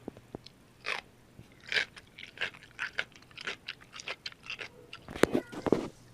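Close crunching bites and chewing of a quick pickle, a series of sharp irregular crunches and wet mouth sounds, faint overall with a louder cluster near the end.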